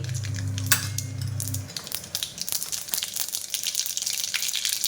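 Mustard seeds go into hot oil in a wok while cooking a spicy tomato chutney, giving dense crackling sizzle with small clinks of utensils. A low hum fades out early in the frying.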